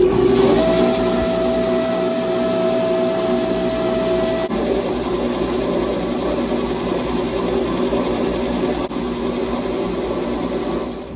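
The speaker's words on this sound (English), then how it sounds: "we're going to go ahead and run it over 400 grit belt" A belt grinder with a 400 grit belt sands a knife, running steadily with a continuous abrasive whir and hum, loud and close, with no talking.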